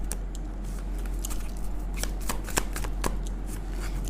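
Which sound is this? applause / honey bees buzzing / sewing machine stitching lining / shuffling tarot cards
shuffling tarot cards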